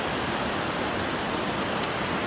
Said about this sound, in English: I'm trying to get that little waterfall there. I'm trying to get the water cascading down there